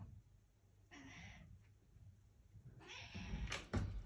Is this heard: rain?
no